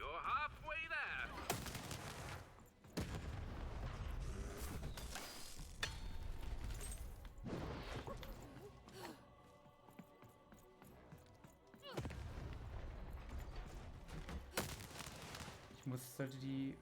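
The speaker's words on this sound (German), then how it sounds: "Shoot the button to fire the cannon." Cannon blasts in the video game Lost in Random, several heavy booming shots spaced across the stretch with clattering game sounds and loud effects between them, with a voice talking over parts of it.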